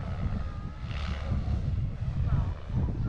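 An electric RC model airplane flies at an annual airshow and fun fly, its steady motor drone running continuously under talk, with a brighter whine rising briefly as it passes.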